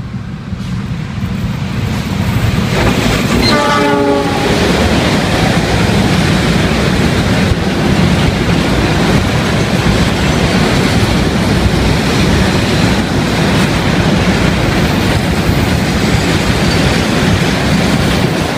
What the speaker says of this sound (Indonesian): Itulah tadi kereta api gerbong ketel Pertamina yang menuju ke stasiun Maos untuk bongkar muat minyak.